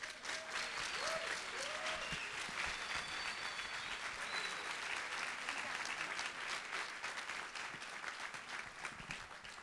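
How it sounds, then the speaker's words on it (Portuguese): A large audience applauds honorees at an awards launch event, a dense, steady wash of clapping that holds loud for the whole stretch, with a few faint whistles or cheers riding on top. "Parabéns a vocês e palmas de novo, por favor."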